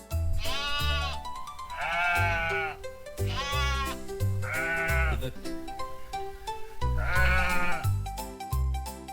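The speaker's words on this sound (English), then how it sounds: "This is a sheep." Sheep bleating in a farm-animal sound sequence, with several long, wavering baas in a row, loud and close, over a steady musical backing.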